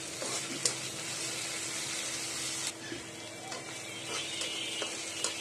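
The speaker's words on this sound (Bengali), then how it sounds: "আদা রসুন বাটাটা আমি একটু ভালো করে ভেজে নেব" Ginger garlic paste fries with onions in a pan, a faint, steady sizzle with a few light stirring clicks and no voices.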